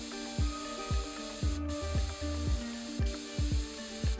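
An airbrush fitted with a 2 nozzle tip sprays paint with a steady airy hiss. Rhythmic mechanical clicks and thumps recur about twice a second nearby, and no one speaks.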